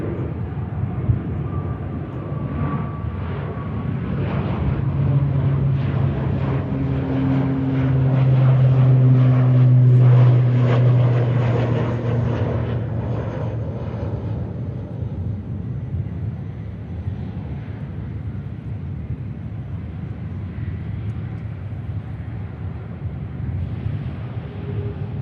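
A Hainan Airlines Airbus A330 taxis out at Manchester Airport, its engines a steady low rumble and whine that swells to a peak midway and then eases off, heard from a distance under light wind noise.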